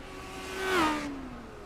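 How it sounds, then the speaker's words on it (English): Race car engine at an SRL Legends Series oval race, with the clutch pushed in: a rising then falling engine tone swelling to a peak near the middle and easing off, mid-distance, no talk. "You hear Michael pushing the clutch in the background"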